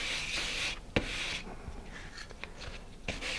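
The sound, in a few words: sanding lightly with fine 220 grit sandpaper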